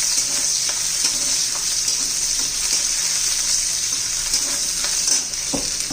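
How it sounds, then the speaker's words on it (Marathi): Garlic cloves and ginger sizzle steadily in hot oil in a pan. The frying is close and continuous, with faint stirring clinks. "त्यातच लसूण घालून घ्यायचं आहे नऊ दहा पाकळ्या आलं घालून घ्यायचंय आहे"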